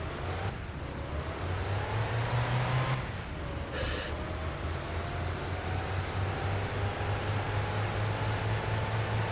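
Steady low engine drone of a car in My Winter Car driven with the handbrake still engaged, a strained hum that shifts pitch partway through, with a brief harsh burst near the middle.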